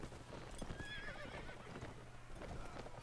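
Horses in a battle in the video game Mount & Blade: Warband: steady clip-clop of hooves with repeated neighs and whinnies over a dense, continuous din of fighting, loud and close throughout.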